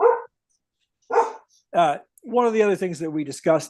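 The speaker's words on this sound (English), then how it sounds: "Sorry about the dogs barking in the background." A dog barks in short separate yips and then a longer whimpering, howling run, fairly close and clear, breaking into a remote legislative committee meeting while someone speaks over parts of it.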